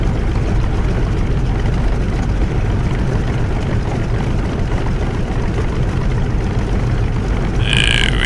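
A FlyingIron F6F Hellcat's radial piston engine in Microsoft Flight Simulator rumbles loudly and steadily on the runway, a dense continuous drone that holds without pause.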